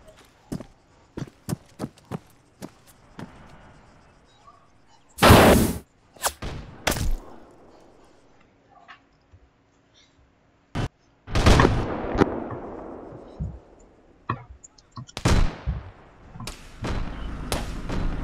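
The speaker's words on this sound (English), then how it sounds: "Tossing grenades." Grenades burst in a tactical video game, each a loud, sharp blast standing alone, a handful spread across the stretch with scattered gunshots and footsteps between them.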